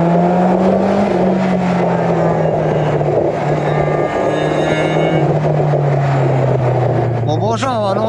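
A Kawasaki Z-series motorcycle engine from a garage collection runs at a steady, loud, close idle, a low, even throb throughout, with a voice talking over it.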